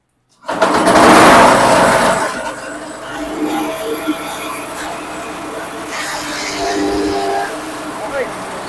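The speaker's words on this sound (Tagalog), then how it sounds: "Ito po yung inyong shredder machine." A farm shredder machine starts abruptly with a loud roar, then settles into a steady mechanical grinding and churning; voices are heard over the running machine.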